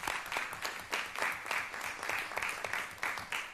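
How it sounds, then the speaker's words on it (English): A council meeting audience gives a round of applause, several people clapping in loose, uneven bursts at moderate distance, fairly quiet and without talk. "Let's do one more round of"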